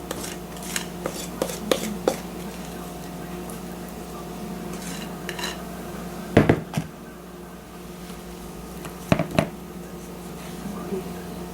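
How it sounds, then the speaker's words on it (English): Batter for a chunky apple cake is scraped from a mixing bowl into a baking pan: scattered soft scrapes and a few sharper utensil clacks against the bowl, close by, over a steady low room hum with no talking. "Scrape the sides of my mixing bowl up real good here, and just try to put it somewhat evenly throughout this pan."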